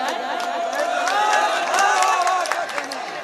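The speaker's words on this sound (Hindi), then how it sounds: "मैं चाहती हूँ इनके लिए आप जोरदार ताली बजाएं" A crowd at an all-India mushaira poetry gathering cheers and claps, a dense, steady wash of applause with shouts rising through it, loud and close, with a voice mixed in.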